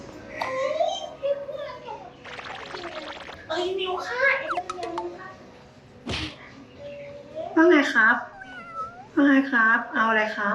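A cat at a guesthouse in Chiang Dao, Thailand, gives several loud, drawn-out meows at close range, mixed with a voice and other people talking nearby.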